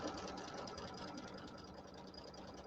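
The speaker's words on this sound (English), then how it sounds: "I'm going to quilt with my white thread." A sewing machine quilting with white thread hums and taps in a fast, steady stitching rhythm, faint and continuous with no talk.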